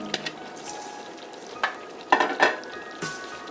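Bell peppers and broccoli stir-frying in a pan, with a moderate sizzle and several distinct scrapes and tosses of the vegetables close by, no talking.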